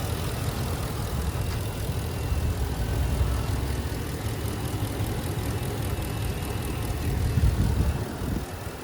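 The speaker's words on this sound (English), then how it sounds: "very smooth running engine" A 2017 Ford F250 Lariat Super Duty with the 6.2L engine runs smoothly, a steady low rumble with even texture, heard close and moderately loud throughout with no talking.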